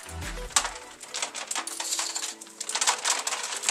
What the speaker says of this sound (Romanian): iarăși punem boabe de piper și frunza de dafin